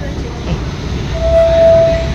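A Mumbai Aqua Line metro train rumbles loudly and steadily close by, with a thin whistling tone rising over the noise partway through.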